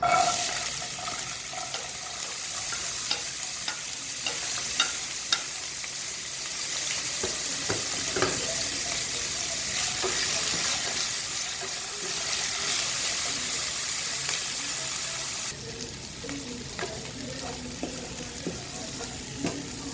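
Peas frying in a pan for vegetable fried rice, a continuous loud hiss and sizzle with scattered pops and scraping stirs, close up, quieting slightly near the end.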